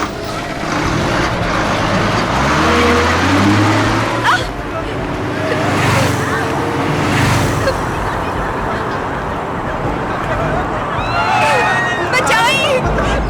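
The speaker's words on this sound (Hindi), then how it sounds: "चल गाड़ी आगे बढ़ा, चल।" A car pulls away with its engine running steadily under continuous loud voices and shouting, the motor rumble staying close throughout.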